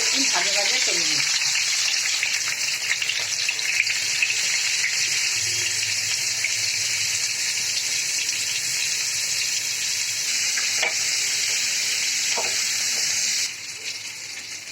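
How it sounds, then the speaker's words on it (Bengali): Peeled potatoes fry in hot oil with salt and turmeric in a home kitchen, a loud, continuous sizzle and crackle close by that carries on for the whole stretch and eases slightly near the end. "এবার আমি আলুগুলো একটু নুন হলুদ দিয়ে একটু ভাজা ভাজা করে নিচ্ছি।"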